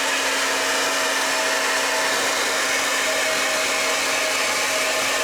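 A hair dryer with a 120-watt motor runs steadily on its cool shot setting, a close, constant whirring hiss with a fixed whine and no voices over it.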